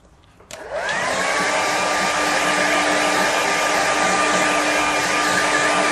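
A hair dryer switches on with a click and then blows steadily at close range over a watercolour painting, a loud continuous whir with a faint whine that holds unchanged to the end.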